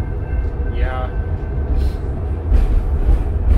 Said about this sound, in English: I love when the train gets louder.